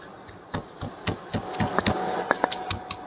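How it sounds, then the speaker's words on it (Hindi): Garlic and ginger pounded in a mortar for a chicken Shinwari karahi, a run of sharp, close knocks that starts slow and irregular and quickens toward the end. "अभी लहसुन और अदरक जो है हम लंगड़ी में कूट लेंगे"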